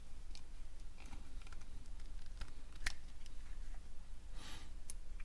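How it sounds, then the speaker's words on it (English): A regular utility knife cuts down into a heat shrink self-solder butt splice connector. It gives quiet, scattered scraping clicks and ticks with no talking. "I'm just going to take a regular utility knife here and just kind of cut down into it"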